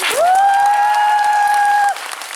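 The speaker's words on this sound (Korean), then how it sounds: "박수 한번 칠까요" A theatre crowd applauds at the curtain call of the musical '난쟁이들' (The Dwarfs), with a loud sustained whistle ringing over the clapping for about two seconds before it drops away.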